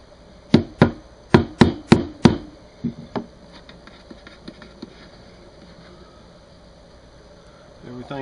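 A rubber mallet knocks a wooden beehive brood box together, about six loud, close, evenly paced thumps, then a couple of softer taps and light knocking fading off.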